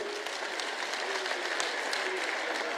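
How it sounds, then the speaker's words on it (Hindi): Steady crowd applause fills a political rally in Buran, Safidon, in Haryana's Sonipat constituency, held on Dhanna Bhagat's birth anniversary, a dense continuous clapping that holds at an even level throughout with faint voices mixed in. "ऐसे हमारे मुख्य अतिथि मनोहर लाल खट्टर जी का एक बार सभी तालियां बजा के स्वागत करेंगे।"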